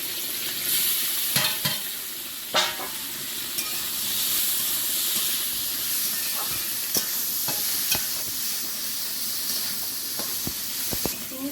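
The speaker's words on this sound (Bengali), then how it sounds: "গোটা জিরে তেলে শুকনো লঙ্কা আর এখানে আছে কাঁচা লঙ্কা রসুন এগুলো হালকা ভেজে চিংড়িটা দেবো" Whole cumin, dried chili, green chili and garlic frying in hot oil give a continuous close sizzle and hiss, with scattered clicks and scrapes from stirring and no speech.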